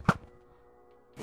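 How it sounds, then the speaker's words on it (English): In Minecraft, a bow looses a single sharp thunk of an arrow at an Ender Dragon tower, followed by a faint sustained hum and a second soft hit at the end. "I'm gonna shoot these towers"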